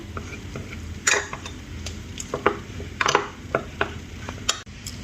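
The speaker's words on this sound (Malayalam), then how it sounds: "ഇതിലേക്ക് കുറച്ച് വെള്ളം നമുക്ക് ഒഴിച്ചു കൊടുത്ത് ഒന്ന് മിക്സ് ചെയ്തെടുക്കാം കേട്ടോ" A cornflour and water mixture is stirred by hand, with repeated sharp clicks and scrapes of a utensil against a bowl over a low background hum.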